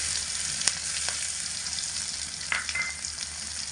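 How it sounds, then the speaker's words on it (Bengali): Garlic paste and dried red chilies spitting and sizzling in hot oil for tempering, a bright continuous hiss close by with a few sharp crackles and pops, no voices. "এগুলো ফোড়নে দিয়ে দেব এবারে দিয়ে দিচ্ছি রসুন বাটা"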